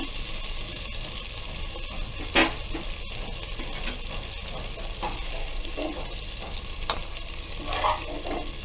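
Shrimp frying in a pan for shrimp fried rice, a soft continuous sizzle broken by occasional scraping and clinking as the pieces are stirred, close and steady throughout.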